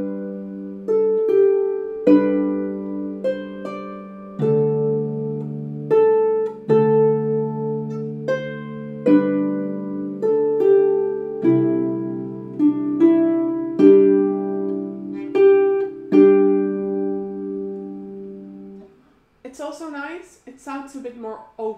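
A harp plays a South Wind arrangement in open fifths, leaving out the middle note of each chord. Clear plucked two-note chords ring one after another at an even, unhurried pace, then end with a short rustle.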